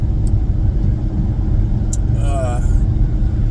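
A car driving to work on the road keeps up a loud, low, steady rumble of engine and tires from inside the cabin, with a person talking over it.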